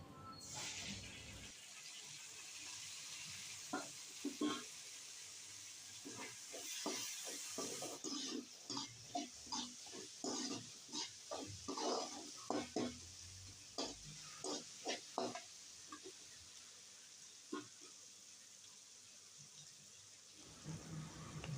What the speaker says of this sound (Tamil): இப்போ தக்காளி சேர்த்து நல்லா வதக்கிக்கலாம்